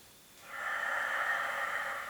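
A single long, steady exhale through the mouth during a Pilates leg movement, close and soft, starting after a brief quiet moment and holding evenly to the end.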